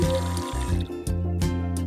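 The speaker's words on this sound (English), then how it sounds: "So the sound that you hear from the pump is going to sound like this." A small water pump hums and buzzes steadily in a Geyiie toy dinosaur sink, with a tonal motor drone and faint splashes of water running close by.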